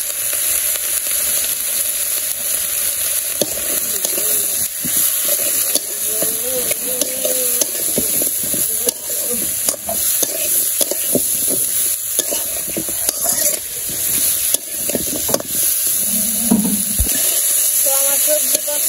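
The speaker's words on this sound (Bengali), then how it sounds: "তো আমার সবজি কষানো হয়ে গেছে" Potato, eggplant and stem vegetables sautéing with salt, turmeric and chili in a pan: a loud continuous sizzle with frequent spatula scrapes and knocks throughout, plus a low thump near the end, no talk.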